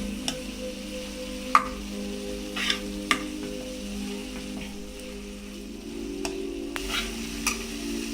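Vegetable momo filling sizzles steadily in a frying pan while it is stirred, a constant close crackle broken by a few soft scrapes and taps from the spoon, with no talking.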